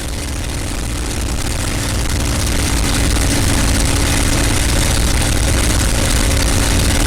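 A P-51 Mustang named Crazy Horse 2 runs its engine steadily through a magneto check, giving a loud, continuous propeller-driven rumble with an even drone and no voices.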